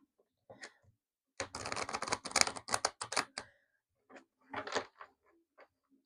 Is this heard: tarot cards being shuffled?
yes